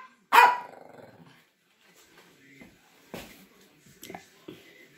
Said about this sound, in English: Quit barking about it.